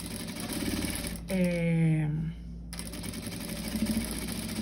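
Sewing machine stitching small pleats in fabric, a steady mechanical hum with a brief louder run of stitching in the middle, heard under a voice.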